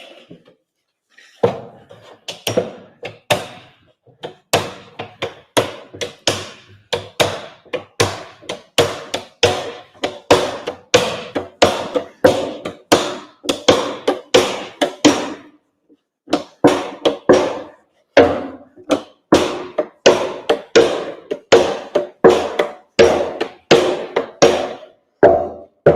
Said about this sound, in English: And then line up my rivets again at the front of the cask. And start to hit that down.